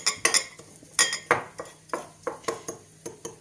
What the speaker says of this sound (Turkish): Şimdi arkadaşlar bunların soslarını kasenin içinde iyice karıştırıyoruz.